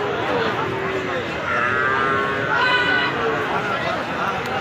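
Cattle and calves at a busy livestock market in Joypurhat, with a few lowing moos rising over steady crowd murmur and background talk.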